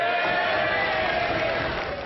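Sustained applause from a crowd of Conservative MPs for the Prime Minister after a party confidence vote, a dense steady patter of clapping that stays loud and even throughout, with no single voice standing out.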